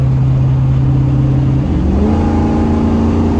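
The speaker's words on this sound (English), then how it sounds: "Not to mention the exhaust sounds amazing." Exhaust of a 5.3 LS-swapped C10 truck, a deep steady idle rumble that climbs into a rising rev partway through, close and loud with no talking.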